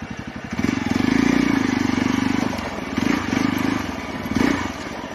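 A Royal Enfield Hunter motorcycle ridden off-road through jungle terrain, its engine thumping loud and close with a pulsing rhythm that swells and eases several times, plus some clatter.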